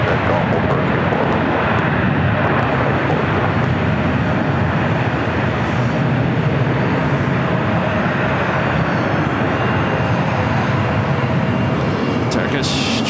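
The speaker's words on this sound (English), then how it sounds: "Turkish Streamliner heading back to Istanbul. Flight 180 now rolling down 25 right." Turkish Airlines Flight 180 bound for Istanbul rolls down runway 25 right at LAX, a loud continuous jet engine roar held steady throughout, with radio chatter and voices over it.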